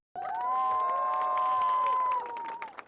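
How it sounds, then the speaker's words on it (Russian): Crowd at a bicycle carnival in Mogilev cheering and clapping, with children shouting and high whoops over a loud, sustained roar that fades near the end. "Ну, ваши аплодисменты."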